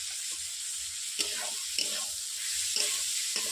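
Potatoes and drumstick pieces being sautéed in a hot pan give a steady sizzle, broken every second or so by the scrape of a stirring spatula, close and clear.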